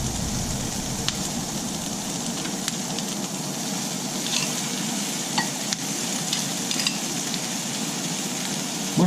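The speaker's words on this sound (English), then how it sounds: "I'm going to add my mushrooms." Mushrooms hit a hot pan already holding browning onions and steak, setting off a continuous sizzle. Sharp spatula clicks and crackles sound up close and alone, with no talk.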